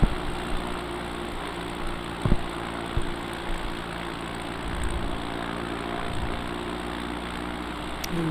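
An X Cub light aircraft cruises in flight, its propeller engine giving a steady, loud, droning hum heard from inside the cockpit, with a few brief bumps and clicks.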